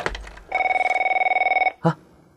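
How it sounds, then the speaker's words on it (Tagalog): An old telephone bell rings in a steady rapid trill for about a second, clear and fairly close, followed by a short clunk as if the handset is lifted; no talk. "Nagunit ti telepono."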